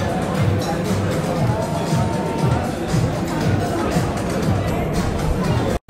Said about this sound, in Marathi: क्राऊड बघा गर्दी बघा